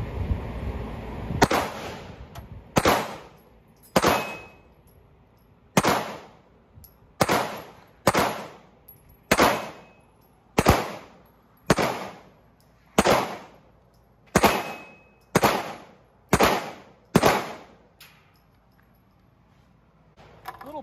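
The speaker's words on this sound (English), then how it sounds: "So you're going to take another shot with this 365 SIG?" Fourteen sharp pistol shots from a SIG P365X ring out one after another at a steady, deliberate pace, each crack loud and followed by a short echo, with no talking.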